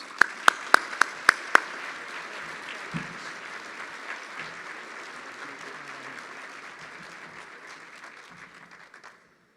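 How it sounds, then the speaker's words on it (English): Audience applause at a chamber of commerce annual awards dinner, opening with a few sharp loud claps before a sustained wash of clapping from a large crowd that slowly fades away. "Let's give them a round of applause."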